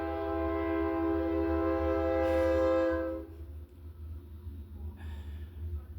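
A long, loud train horn blares steadily for about three seconds, then cuts off, leaving rumbling rail noise and a brief fainter tone.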